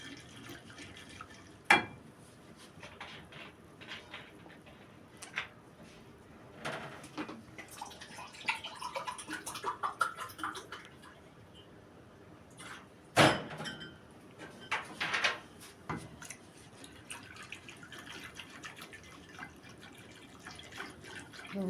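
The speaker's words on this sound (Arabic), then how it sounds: "ننزل عليه بكوبايه ميه ساقعه تلج ونقلبه كويس" Ice-cold water poured over mango jelly in a bowl and stirred, with faint trickling, drips and occasional clinks and knocks of utensils, quiet and close.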